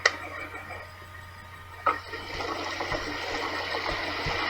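Red liquid pouring and splashing in the video game It Moves, a watery rush that swells after a sharp onset and keeps flowing steadily, with a couple of faint clicks early on.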